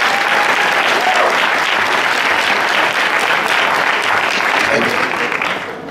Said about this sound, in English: Let's give Nigeria a big round of applause for our time.